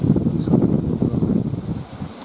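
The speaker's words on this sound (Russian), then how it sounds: "Вот это ветер, бешеный ветер." Strong wind roars and buffets against the microphone in a steady, loud rumble, with no talking.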